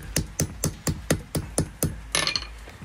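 A hammer forges the iron socket of a crossbow bolt head, striking about eight even, ringing metallic blows in a steady rhythm, close and loud, followed by a brief scraping clatter.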